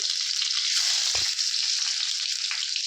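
Onion frying in hot oil in a kadai for tomato chutney, a loud, dense, continuous sizzle and crackle heard close up, with a faint low knock as something is added and no voices.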